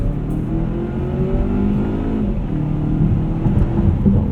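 A 2018 Volvo V60 T6 AWD R-Design wagon accelerating up a highway entrance ramp at around 63 mph, a steady loud engine drone heard from inside the cabin, rising in pitch with the revs, with no talking.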